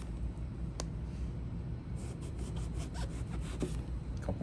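A knife slices through eggplant being prepared for eggplant parmesan, giving a run of soft, close cutting and rubbing strokes in a quiet kitchen, with no talking.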